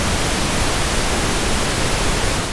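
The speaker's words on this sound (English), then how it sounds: "it's actually a signal similar to white noise you might have heard of that has the same amount of energy in each octave" A pink noise test signal plays as a loud, steady, even hiss filling the whole range, unbroken and alone for its full length.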